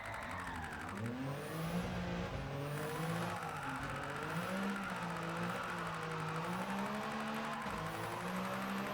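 Mini truck engine driven along, a small motor droning and rising and falling in pitch as it revs, steady and close throughout, with no talking.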